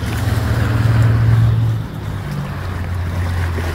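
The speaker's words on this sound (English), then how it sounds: "Watch the waves coming up here now." Ocean waves roll in beside docked cruise ships, a loud, continuous wash of surf that swells and then eases back, with wind-like rumble throughout.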